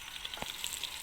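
Fish sizzling in hot oil in a pan, a short burst of crackling and popping spatter at moderate level with no voices.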